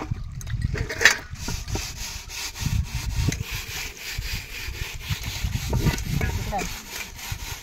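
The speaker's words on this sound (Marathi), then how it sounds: "भांडी घासून" Utensils are scrubbed outdoors near Kalammawadi dam with sand, making rough, rhythmic scraping strokes in uneven bursts, with occasional voices in the background.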